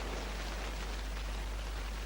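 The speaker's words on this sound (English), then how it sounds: "It's raining." Steady, even hiss of rain falling, soft and constant throughout with no voices.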